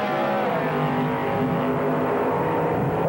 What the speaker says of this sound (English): Three comes down, full body car getting the head start over the dragster.